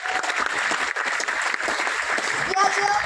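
Applause from a crowd, a steady patter of clapping that carries on throughout with voices mixed in.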